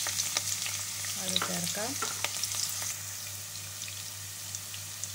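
Ginger, garlic and chilli fry in hot oil with whole spices in a pan for beef pulao. The sizzle is soft and steady, with stirring scrapes near the start and a short spoken remark.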